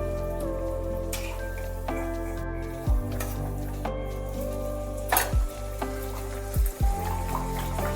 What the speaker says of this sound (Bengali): এইভাবেই কিন্তু সমস্ত লুচি আস্তে আস্তে করে ভেজে নিতে হবে